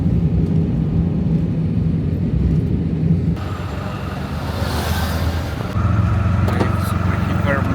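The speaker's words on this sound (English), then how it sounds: "Super hyper mega luxury tuk-tuk." Tuk-tuk engine puttering while driving through Sri Lanka, a close, steady mid-low drone with road and wind noise that shifts in tone partway through, continuous throughout.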